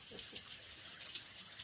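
Water from an outdoor shower runs continuously in a Kruger National Park camp setting, a soft steady hiss of spray heard faintly and alone.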